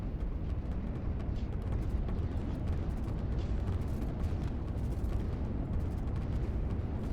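Rocket strikes in the Line War strategy game, a dense continuous barrage of rumbling explosions and booms that runs unbroken through the whole stretch with no pauses.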